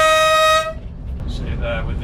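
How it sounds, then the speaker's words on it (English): A Class 20 diesel locomotive at Hope Cement Works sounds its horn in a single short, loud blast that cuts off, followed by cab rumble and voices. "Just blow your horn."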